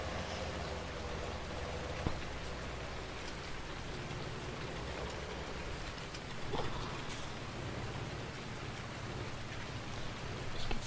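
Steady rain falls in a farming video game, an even, dense hiss of drops with a few brief louder taps, and nothing else in the scene.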